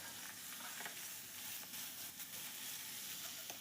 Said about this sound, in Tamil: வெங்காயம் போட்டு வெங்காயத்தை நல்லா வதக்கணும் தக்காளி போடுறோம்